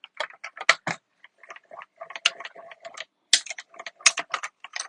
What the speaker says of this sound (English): bring in the machine, get our plate 1 and plate 2, cardstock, die cut, top plate.